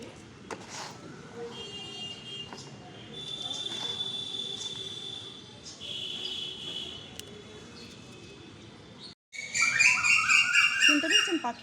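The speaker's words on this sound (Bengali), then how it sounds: "তাই জন্য প্রচুর পাখির ডাক শোনা যায়, আর কোকিলের ডাক তো বটেই" Birds sing near large trees, including a calling koel, with scattered chirps and whistles at moderate distance, then a louder burst of bright bird calls near the end.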